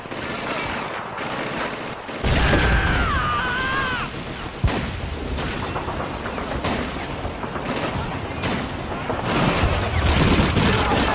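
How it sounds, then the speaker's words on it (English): MG-42 machine gun fire in a Call of Duty 2 mod of the video game: loud, dense bursts of battlefield gunfire, with sharp cracks and rumbling blasts layered together throughout. "MG-42 in the window!"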